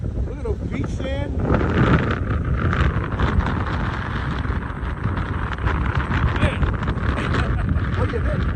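Strong wind blows steadily at a beach, a loud continuous roar buffeting the microphone throughout, with people talking faintly beneath it.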